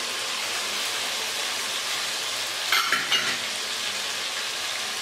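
Chicken afghani curry sizzling and frying steadily in a pan over low heat, a dense even hiss throughout, broken briefly midway by a few soft scrapes of stirring.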